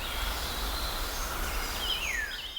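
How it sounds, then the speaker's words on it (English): Quiet outdoor ambience at Green Mountain Farm in North Carolina, a very peaceful rural spot, with a low steady hush, faint insect buzzing and a brief thin bird call near the end. "This is a sound of Green Mountain Farm."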